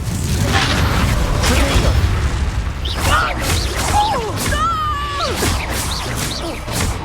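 Bombarda explosion spell cast in Hogwarts Legacy, heard as loud, booming bursts and crashes layered over busy game effects and whooshes, with a voice heard among them.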